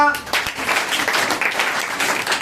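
A classroom of students breaks into brief applause after a correct answer to an algebra problem, a short burst of overlapping claps with voices mixed in.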